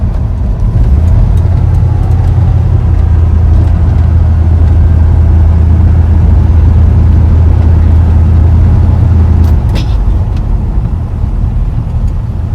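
A 1955 Ford F100 with a 350 small block V8 and three-speed automatic cruising, its loud deep engine drone steady for most of the stretch, then easing near the end amid light rattles.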